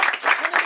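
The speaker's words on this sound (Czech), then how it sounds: "Takže mu zatleskejte za poháry" Audience clapping at a Škoda Fabia owners' car meet award ceremony, a short burst of dense applause, fairly close and loud.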